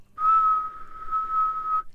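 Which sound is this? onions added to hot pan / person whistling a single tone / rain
person whistling a single tone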